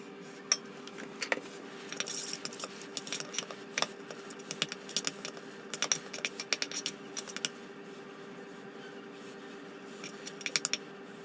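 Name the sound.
mixing Marmite into a tofu burger mixture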